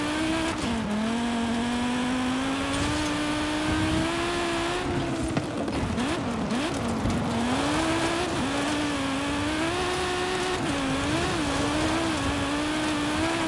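A B-class car on full slick tyres in Forza Horizon 5 revs hard, its engine note rising and dipping steadily across the run with brief tyre squeal, close and loud with no talk.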